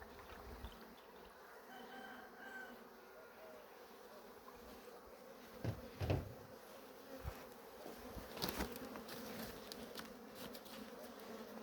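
Honey bees at a beehive make a steady, faint buzzing drone, broken by a few louder close fly-bys and soft knocks partway through, with no voices.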